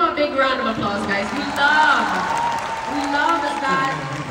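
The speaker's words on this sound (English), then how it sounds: "Let's give him a big round of applause," Audience at a Manila fan concert for Kim Soo Hyun clapping under loud, close talk, with crowd babble and shouts carrying through the applause.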